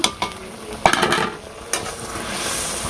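Fish for doi katla frying in a hot pan as sugar is added, with a steady close sizzle broken by a few scraping, clattering stirs.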